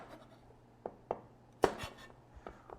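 A kitchen knife trims the ends off garlic cloves on a board for a classic aioli, giving a few sharp, close cuts and taps spaced irregularly, one louder than the rest, over quiet room background.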